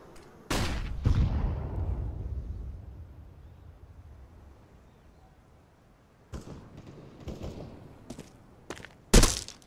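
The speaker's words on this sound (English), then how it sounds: "Throwing a flashbang." A flashbang grenade going off in the Counter-Strike video game, a loud close bang with a long fading rumble, followed by a cluster of sharp gunshot-like cracks and a final loud burst.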